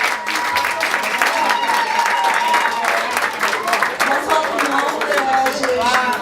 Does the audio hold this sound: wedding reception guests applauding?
yes